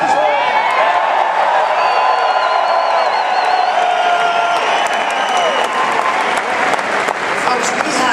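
A packed crowd at a political rally in Tsongas Arena, Lowell, Massachusetts, claps and cheers loudly and steadily, with scattered whoops and shouts rising over a dense wash of applause.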